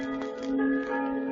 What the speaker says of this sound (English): Nothing but those accursed bells.